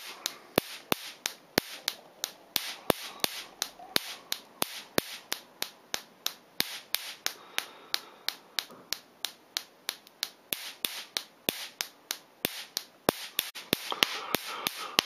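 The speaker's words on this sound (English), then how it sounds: "Both gaps are firing from time to time" High-voltage spark gaps, 100 mm spheres with a 45 mm gap alongside a needle gap, firing as sharp crackling snaps in a rapid, slightly irregular series, crisp and isolated.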